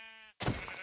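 A single short sheep bleat from the Minecraft video game, sharp and bright, quickly followed by a dull thunk as the animal is hit.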